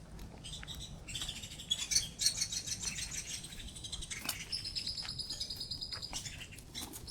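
Several birds squawk and chirp in agitated, overlapping bursts as they fight, shrill and fairly close, over a faint outdoor background near Dominical Beach, Costa Rica.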